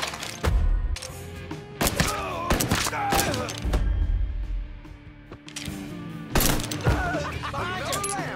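Gunfire from a combat shootout in Mafia III: repeated bursts and heavy thumping shots at close range, with voices calling out between volleys.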